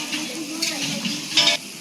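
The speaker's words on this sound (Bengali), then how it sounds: "মশলাটা ভালো মতন ফ্রাই হবে" Spice paste with green and red chilli and turmeric fries in a pan, a soft sizzle under a voice speaking nearby, with scraping stir sounds and a louder burst of hissing near the end.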